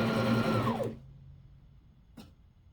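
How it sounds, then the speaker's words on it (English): Sewing machine stitching over stretched elastic held taut on a wool diaper cover, a steady whirring run of just under a second, then stopping into near silence with a brief click later. "I'm going about halfway, and then just keeping it taut as I'm sewing over it."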